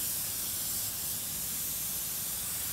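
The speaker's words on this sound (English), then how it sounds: "just literally get a silicone spray and just coat your packer." A can of silicone spray hisses steadily onto a rubber packer, one continuous close, bright spray with no voices.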